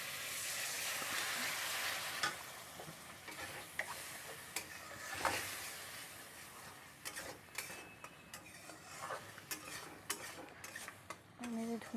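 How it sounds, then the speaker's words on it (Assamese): Fish curry fries in a pan after a little water is added to dried-out oil, giving a steady low sizzle with occasional light clicks of a utensil against the pan, fairly faint and with no talking. "মই ইয়াতে অকণমান পানী দি আকৌ অকণমান ভাজি ল'ম"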